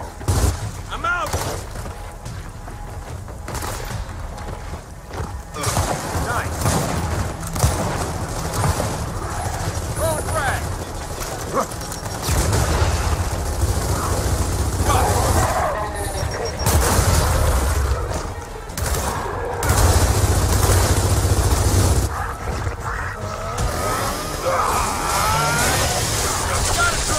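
Heavy gunfire and explosions from the video game Gears of War 4, dense bursts and booming blasts piling up in a loud, continuous battle din with deep rumbles, mixed with shouted character voices throughout.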